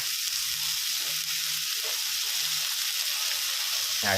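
Crispy fried mussels being stir-fried in a pan with bean sprouts and seasoning sauce, giving a steady loud sizzle with soft scraping stirs and a few light clinks, no voices.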